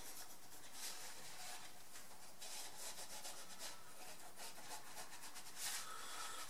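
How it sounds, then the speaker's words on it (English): A marker scratches an outline onto metal for an exhaust hanger tab on a 1978 Trans Am, producing faint, repeated rubbing strokes close by in an otherwise quiet space. "just draw a little outline of what we want"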